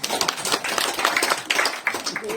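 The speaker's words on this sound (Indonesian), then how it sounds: "Nah, tepuk tangan lalu" Applause from a gathering at a Balinese Hindu dharma talk, steady dense clapping filling the whole stretch with a few sharper taps, moderately loud and close.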